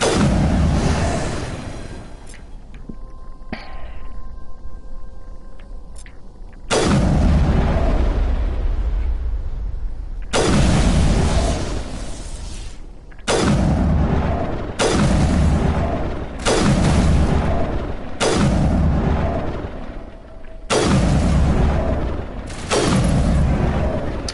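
Heavy sniper rifle shots ring out in Mass Effect 1 Legendary Edition on Feros. Loud booming blasts come at irregular intervals, each followed by a long decaying tail, and a quieter stretch sits between the first shot and the next.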